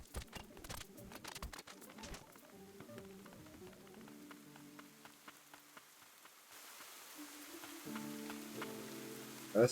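Rain in the video game Ender Lilies, a soft continuous patter with scattered drop-like taps and faint bird-like cooing, moderately quiet with no talk over it.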